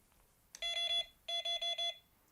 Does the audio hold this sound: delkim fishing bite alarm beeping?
yes